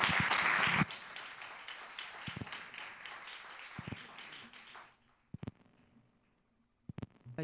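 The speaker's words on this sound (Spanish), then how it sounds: "Un aplauso caluroso." A concert crowd applauds loudly at first, then the clapping thins to scattered claps and fades, with a few sharp knocks near the end.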